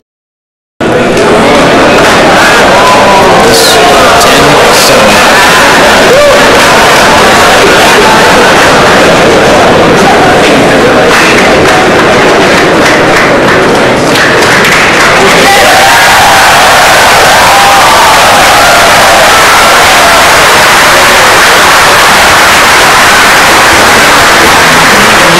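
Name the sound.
crowd cheering at billiards match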